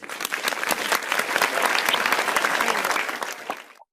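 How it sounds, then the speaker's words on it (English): A crowd at a 2020 commencement ceremony applauds the graduates, a dense, steady clapping from many hands that swells, holds, then cuts off abruptly. "Please join me in one final round of applause for our 2020 graduates."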